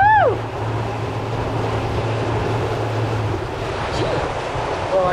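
A solar-powered boat with a new propeller moves over open water, with a constant rush of wash and wind, a faint low motor hum that stops partway through, and a few brief whistling chirps.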